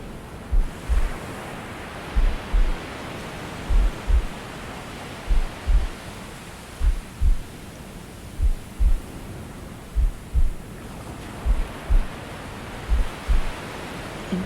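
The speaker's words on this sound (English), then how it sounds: "the rhythm of that heartbeat that you can still hear" A slow, steady heartbeat thumps in regular double beats, each lub-dub pair repeating about every second and a half beneath a soft, airy wash of background noise.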